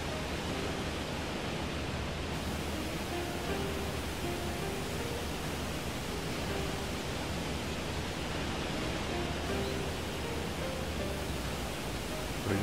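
Waterfalls in the video game Shenmue 2 give off a steady, dense rushing roar that fills the whole clip at an even level with no speech.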